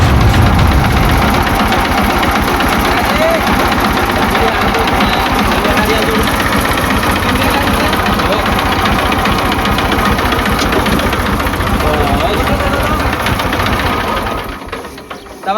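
A tractor engine runs steadily and loud at close range, a continuous throbbing rumble that holds for most of the stretch before dropping off near the end.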